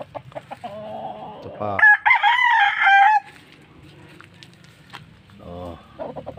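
Cooped-up backyard chickens cluck in short bursts, then a rooster nearby lets out one loud drawn-out crow before the clucking resumes; a voice briefly speaks in between.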